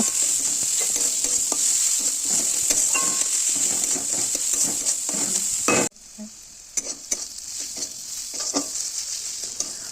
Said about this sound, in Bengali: মশলা থেকে তেল একটু ছাড়া শুরু করতেই তাতে দিয়ে দেব টমেটো কুচি তারপর একসাথে সবটা ভালো করে নাড়াচাড়া করে নেব